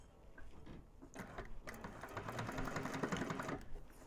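A sewing machine runs in a steady rapid whir while stitching the drop-in lining of a Scottie convertible bag, starting with short bursts and then a longer continuous run, close and fairly quiet.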